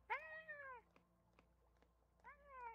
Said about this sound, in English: Oh, there's a cat in here.